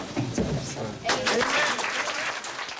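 Students at a school sharing session clap in a brief burst of applause, with speech running alongside.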